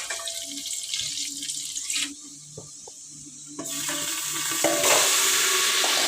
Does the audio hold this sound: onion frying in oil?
yes